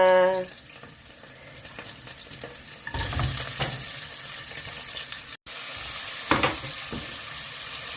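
Tomatoes cooking in a pan for Filipino pakbet give off a steady broadband sizzle with a few stirring scrapes, swelling louder midway through and holding to the end, with no talk.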